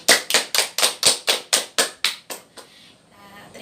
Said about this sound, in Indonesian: kalau gitu tepuk tangan untuk kita semua